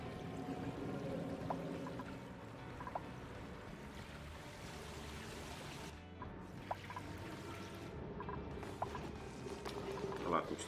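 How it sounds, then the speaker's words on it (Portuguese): Water keeps falling in the Oxygen Not Included video game, a steady, continuous pouring wash with occasional small clicks, heard under a muffled voice. "Continua caindo água."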